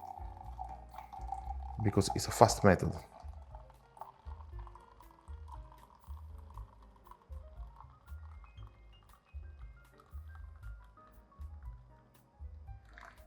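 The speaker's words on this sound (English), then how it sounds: "Try to pour the water as fast as possible, okay? The 200 grams of water as fast as possible" Water, 200 grams of it, poured quickly into an AeroPress coffee brewer, a brief loud splashing gush followed by a softer ongoing trickle and bubbling, with a voice talking over it.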